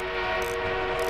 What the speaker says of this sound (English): We got an enemy armor train coming in.